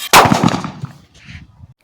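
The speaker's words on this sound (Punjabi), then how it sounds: "ਲਓ ਭਾਈ ਇੱਕ ਵਾਰ ਫਿਰ ਤੋਂ ਆਪਾਂ ਪਟਾਕਾ ਪਾਉਣੇ ਆ" A homemade potash firecracker device set off for Diwali bursts with one sharp, loud blast that rings out and decays over about a second, followed by faint rustling and low thuds.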